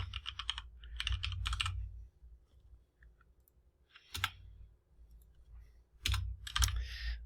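Typing on a computer keyboard, with quick bursts of clicking keystrokes separated by pauses, close and fairly quiet, no talking.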